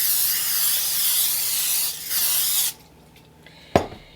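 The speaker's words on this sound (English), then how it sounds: "you take a cookie sheet and you make sure it's sprayed down" Cooking spray hisses onto a cookie sheet in a close, loud burst lasting a couple of seconds, then quiet follows with a sharp clack near the end.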